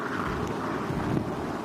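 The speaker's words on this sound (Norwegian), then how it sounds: "this reporter could be seen struggling against the 108 km/h gusts" Hurricane-force gusts of about 108 km/h buffet a microphone on a quay at Sistranda on Frøya, Norway, a steady loud roar of wind rumble filling the whole clip with no talk over it.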